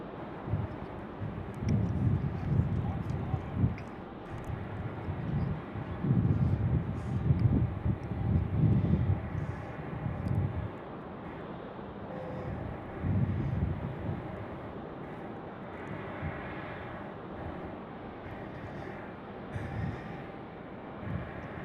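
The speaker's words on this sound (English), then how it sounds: "as we see Frontier landing here" A Frontier airliner landing at Raleigh-Durham International Airport, heard as a broad, low engine rumble mixed with wind noise, louder at first and then easing to a steady, fairly distant roar.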